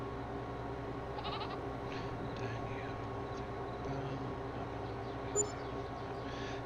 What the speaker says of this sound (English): we got baby goats producing, baby goats at that, producing cashmere